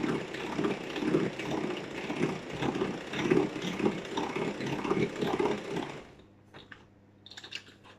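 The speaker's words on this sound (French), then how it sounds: "On va reposer du coup le moteur de mon Speedy Chef dessus et on va pouvoir mélanger correctement." A Speedy Chef food processor motor whipping meringue, a steady, close mechanical whirring with a rhythmic grinding pulse that runs for about six seconds and then stops abruptly, leaving faint clicks and handling noises.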